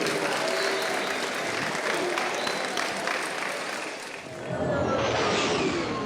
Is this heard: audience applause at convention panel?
yes